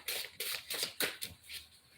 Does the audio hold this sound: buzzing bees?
no